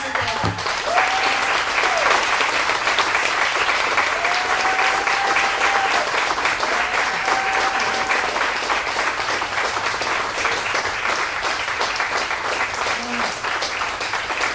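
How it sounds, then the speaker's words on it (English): A long, steady round of applause from a crowd at a retirement party, dense clapping throughout with faint cheers or whoops rising briefly above it. "I would like a huge round of applause for the woman who literally saved my life"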